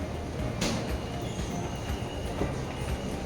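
A subway train in Rome rumbles with rhythmic clattering and a brief hiss, steady and fairly close, no talking.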